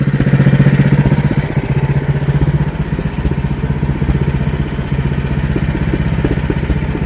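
A snow-clearing machine engine runs steadily in heavy snow during a snowstorm, a loud, close, rhythmic mid-pitched chugging drone with clattering that continues unbroken throughout.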